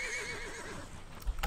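A horse in the Disney Infinity video game's Lone Ranger setting gives a loud, wavering whinny, followed by a few sharp hoof or impact thumps at the end.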